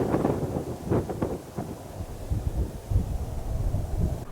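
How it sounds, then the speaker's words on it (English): Strong wind gusts buffet a microphone outdoors in open desert country along Route 66 in Texas and New Mexico, a loud, steady low rumble with surges throughout and no talk. "Very windy."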